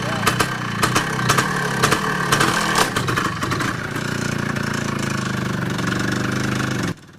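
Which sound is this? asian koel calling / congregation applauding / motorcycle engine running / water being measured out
motorcycle engine running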